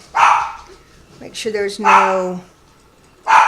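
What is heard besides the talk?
Morkie dog barking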